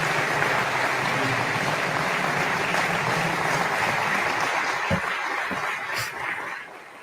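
Sustained audience applause fills a community address hall after a speech, dense and steady clapping near the listener for several seconds before tapering off near the end.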